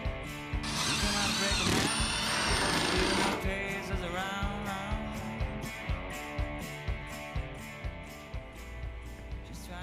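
Power drill driving screws into the frame of a homemade DIY gym rig: a sustained whine that drops into a string of repeated short pulses and clicks, close and fairly loud.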